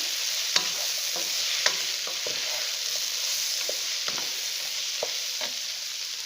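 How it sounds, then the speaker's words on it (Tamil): Spice masala sautés in a pan for a paneer biryani, a steady soft sizzle with scattered light scrapes and taps of a spoon stirring, close and with no talk. "இந்த மசாலாலாம் பச்சை ஸ்மெல் போக ஒரு 2 நிமிஷம் நல்லா வதங்கட்டும்."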